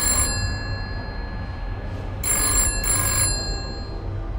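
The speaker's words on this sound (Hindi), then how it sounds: "तभी हरिनगर पुलिस थाने में फोन की घंटी बजती है।" Telephone bell ringing at the Hari Nagar police station in Delhi, heard as three short, bright bursts of ringing separated by pauses over a low background hum, with no talking.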